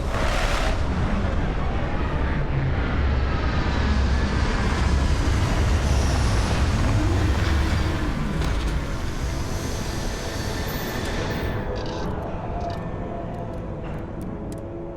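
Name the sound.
spaceship landing in video game Starfield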